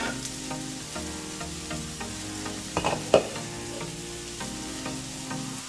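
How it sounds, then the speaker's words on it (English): Cabbage lands in a hot pan of vegan saltfish, where a steady, close sizzle and frying hiss goes on throughout, with a brief louder burst of crackling as the cabbage hits. No one speaks. "so here goes my cabbage right on top"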